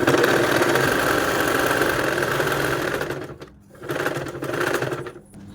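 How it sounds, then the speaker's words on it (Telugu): Sewing machine stitching the lining of a kid's cloth frock, a steady close rattling hum that runs continuously, then pauses briefly and restarts in short bursts toward the end. "మెయిన్ క్లాత్ ఏదైతే ఉందో ఆ క్లాత్ని ఇట్లా లోపలికి పెట్టేసి లోపలికి అనేసి లైనింగ్ వైపున మాత్రమే కుట్టు వేసుకోవాలి"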